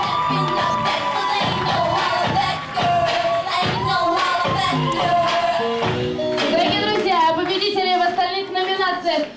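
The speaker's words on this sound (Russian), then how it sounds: "Ваши бурные аплодисменты" Applause and cheering greet the Mister Disco winner at the Mister Ivanovo 2016 contest, with a loud crowd clapping under an announcer and loud music.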